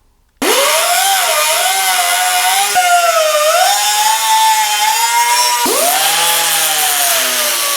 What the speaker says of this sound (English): I will just take a zip wheel and cut this off